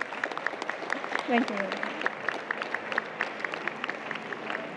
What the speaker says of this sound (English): A hand of applause for our Director General,